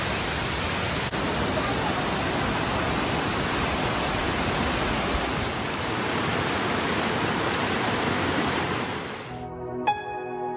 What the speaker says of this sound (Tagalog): Ang ganda yung falls.